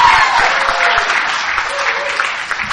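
An audience at an Alcoholics Anonymous speaker meeting in Albany, Georgia breaks into applause, a dense, close wash of clapping lasting a few seconds with faint voices mixed in.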